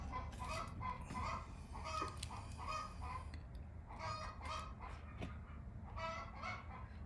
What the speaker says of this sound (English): That's their chickens laying eggs song.